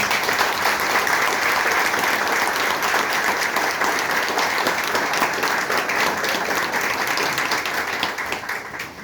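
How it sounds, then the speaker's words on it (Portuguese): A crowd at the close of a lecture breaks into steady applause, many hands clapping together in a continuous wash that holds level before tapering slightly at the end. "Uma salva de palmas para você."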